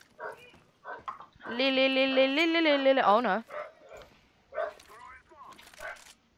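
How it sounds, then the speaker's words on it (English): Dogs bark and howl somewhere in the house behind a person talking during a CS:GO match; one long, loud, wavering howl-like bark stands out among shorter yips and speech. "Oh, here comes the dogs. Here comes the doggy dogs."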